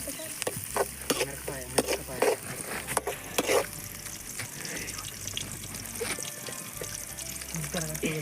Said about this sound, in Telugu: మంచిగా మంచి ఎర్ర అయిన తర్వాత అల్లం పేస్ట్ వేసుకొని కలుపుకోవాలి.